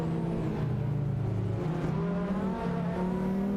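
Lamborghini Diablo VTR and Diablo GTR race cars in Assetto Corsa run neck and neck, engines droning loudly and steadily with shifting revs and harmonic whine throughout.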